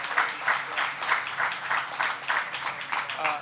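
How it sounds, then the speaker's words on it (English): Applause rises from the crowd at a press event at Penn Station, a loud, close, rolling patter of many hands with a rhythmic pulse running through it. "Let's give them a round of applause because they did a great job."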